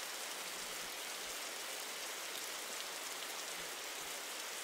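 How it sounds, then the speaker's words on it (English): Steady rain in a video game, a soft, even hiss of falling water that holds constant at low volume with no voices over it. "Maybe we can stop hearing the damn rain."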